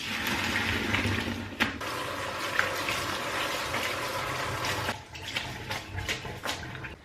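Cooked jjajangmyeon noodles are strained and rinsed, with water gushing and splashing steadily at close range for several seconds and a brief pause partway through.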